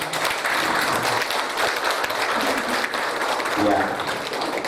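An audience at a company briefing for a shipping group applauds with continuous clapping that swells briefly near the end, while voices talk over it.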